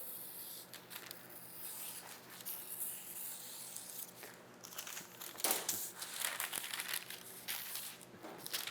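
A knife cuts through folded baking paper for lining a cake tin, giving a steady crinkling and rustling scrape with a few sharper tearing bursts, close and moderately loud with no talk.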